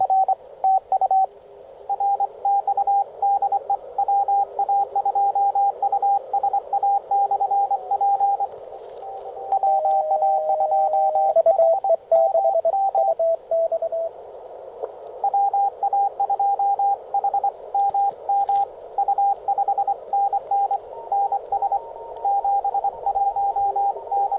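Amateur radio Morse signals picked up while tuning the dial during a Winter Field Day contest, a steady tone sounding almost continuously in short keyed bursts, with the pitch shifting briefly partway through and no talk.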